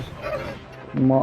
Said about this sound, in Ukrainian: Але то пес.